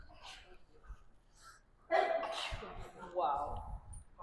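A single sharp sneeze bursts out during a group instruction session on putting on belts, loud and close, with people talking around it.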